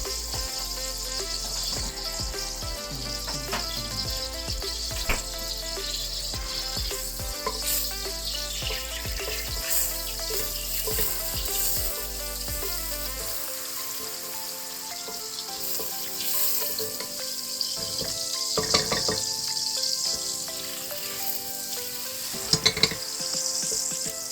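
Olive oil and butter sizzling in a pan for spaghetti sauce, a steady close frying hiss with occasional clinks and stirring scrapes, continuing unbroken with no talk.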